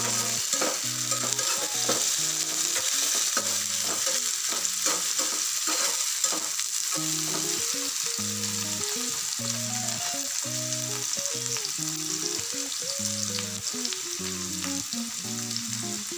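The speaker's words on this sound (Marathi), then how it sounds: "तर 1-2 मिनिटं हे तळून घेऊयात। तर कांदा थोडासा तळला की" Chopped onion frying in a pan for a dry bitter gourd bhaji, giving a steady, fairly loud sizzle that runs the whole time, with a tonal musical bed underneath.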